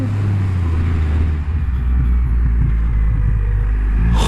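A Triumph Rocket III GT, a 2500cc 167 hp motorcycle, accelerates from a stop, heard from the rider's position. A loud, steady, deep engine rumble with wind roar holds throughout, close and continuous.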